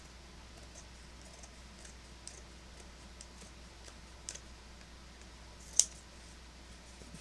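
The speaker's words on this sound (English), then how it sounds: "We'll cut it with scissors." Quiet snips of scissors cutting through fabric, a few sparse cuts spread out over the stretch with one sharper snip, against a soft hum.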